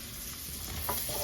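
Onions sauteing in a pan for a creamy mushroom sauce give a steady, soft sizzle with light stirring scrapes, moderately close and continuous, with no talking.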